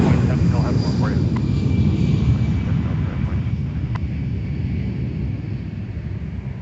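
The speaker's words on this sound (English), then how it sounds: "pulling onto the end of runway 4 off to our right is going to be Sun Country." An airliner's jet engines rumble loud and steady as it pulls onto the runway at Minneapolis–St. Paul airport, a deep continuous roar filling the whole stretch.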